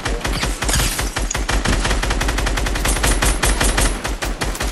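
Sustained automatic gunfire from a Fortnite match, loud and close, with shots fired in a dense rapid stream and barely any gap between them.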